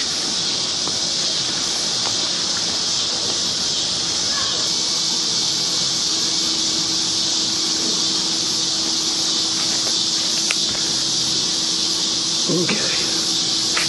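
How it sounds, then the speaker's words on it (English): Cicadas drone in a continuous loud, high-pitched buzzing chorus that stays steady throughout, with faint background sounds beneath it. "We have noisy neighbors and noisy cicadas."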